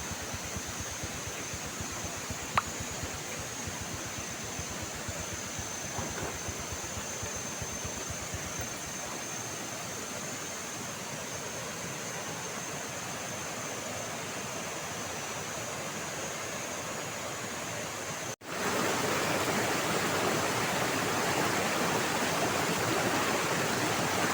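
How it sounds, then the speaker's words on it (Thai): Chatwarin waterfall in Thailand, with water tumbling down from a high mountain in tiers, roars as a steady broadband rush. It stays constant throughout and grows slightly louder near the end, with no voices. "น้ำตก"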